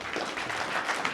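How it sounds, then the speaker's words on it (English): A brief round of applause from an audience at a Brockton community business event, soft and diffuse, steady clapping heard from a distance. "Round of applause."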